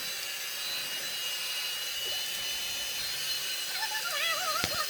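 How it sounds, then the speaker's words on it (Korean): A hair dryer blows on a pet chicken after its bath, a steady high-pitched whirring hiss, constant and fairly close, with faint squeaky sounds near the end. "드라이기로 이렇게 지지고 있는데"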